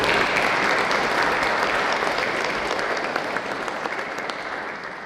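Dense, loud applause from a museum audience at a talk on buckwheat, honey and honey plants, steady throughout and tapering slightly toward the end.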